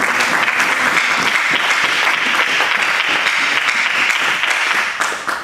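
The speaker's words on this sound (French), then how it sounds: "On acclame la parole du Seigneur." A church congregation applauding together, dense sustained clapping from many hands that fills the whole stretch and fades slightly at the close.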